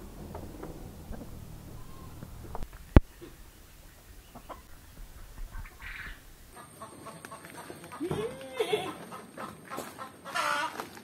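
Chickens in a coop on a small farm holding about 35 birds, with soft clucks and calls scattered at low to moderate level over rustling and background noise, and a sharper burst of activity late on.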